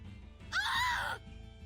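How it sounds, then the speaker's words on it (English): In the video game Tales of Zestiria, a single short, wavering scream rings out outside at night, about half a second long, over a low background music hum. "A scream? Right outside!"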